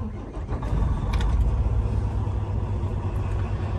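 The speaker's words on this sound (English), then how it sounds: "Next, I'll turn my truck on." A truck's engine turns over and catches, settling into a loud, steady low rumble that idles close by without pause.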